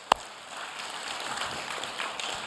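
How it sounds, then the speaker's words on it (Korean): A church congregation claps in praise during an early-morning service, a diffuse, even patter of many hands filling the room after one sharp opening clap. "승리하신 주님께 영광의 박수 올리겠습니다"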